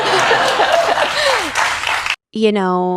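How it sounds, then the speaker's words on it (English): Audience clapping mixed with laughter and chuckles at a talk, a lively crowd burst lasting about two seconds that cuts off abruptly, followed by a voice speaking. "And you all just clap for that."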